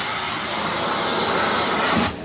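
Steam carpet cleaner with a roto-vac tool, a loud steady hiss and suction roar that cuts off abruptly near the end.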